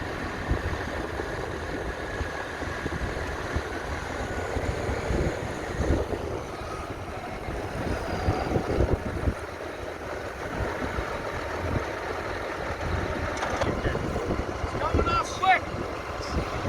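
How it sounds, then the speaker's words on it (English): Gusty wind buffets the microphone outdoors during hay baling, a steady rough rushing with occasional stronger bursts and no one speaking. "Kind of windy."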